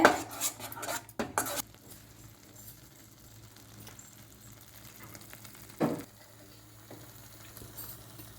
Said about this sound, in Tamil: நெய்லேயே இந்த மசாலாவை நல்லா வதக்கி விடுங்க. இந்த மசாலா நல்லா சுருள வெந்து வரணும். கிளறி கொடுத்துட்டே இருங்க.